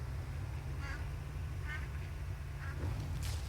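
Ducks in the Farm Together 2 farming game give a few short quacks spaced across a steady low game hum, moderately clear but not loud.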